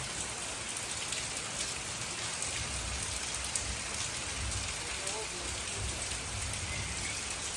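Heavy rain pours outside a cabin in Alaska, a dense, steady patter of drops on nearby surfaces that holds an even level throughout, fairly soft and close, with no talk.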